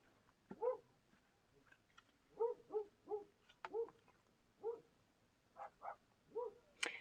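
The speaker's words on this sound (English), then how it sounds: "but there are some dogs barking." Several dogs barking at a distance in repeated short bursts, some single and some paired, scattered across an otherwise quiet outdoor background.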